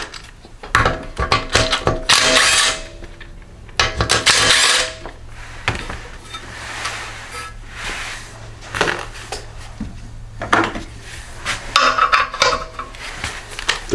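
Hand tools work loose the muffler bolts on a Toro snow blower, model 38742: close metallic ratcheting clicks and clanks in irregular bursts, with brief pauses between turns and no talking.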